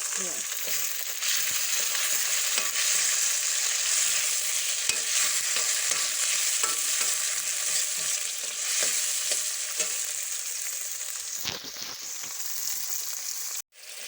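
Browned potatoes sizzle steadily in a hot pan as tomatoes go in and are stirred through, a continuous close frying hiss with scraping stirs, a brief drop near the end and a sharp knock just before it stops.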